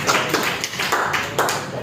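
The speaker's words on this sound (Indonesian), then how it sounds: "saya beri aplaus pada kelompok dari" Applause for a student group in a classroom, a dense patter of hand claps running steadily through the whole moment at close range with no voices over it.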